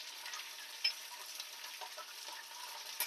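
Green chillies and sesame seeds fry in oil with a soft, steady crackling sizzle and light stirring clicks, faint and close with no voices.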